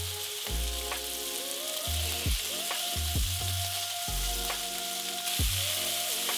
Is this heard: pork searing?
yes